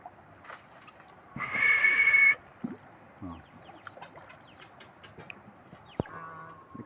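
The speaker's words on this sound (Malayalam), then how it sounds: "ഈ കോഴിയുണ്ട് കേട്ടോ. ഒരുപാട് കോഴിയുണ്ട്." Backyard chickens at a home cluck sporadically with soft scattered pecks and scratches, then one louder, drawn-out squawking call stands out for about a second.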